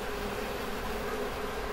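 Honeybees swarming at a hive entrance make a continuous, even buzzing drone, steady and close with no pauses, and no voices over it.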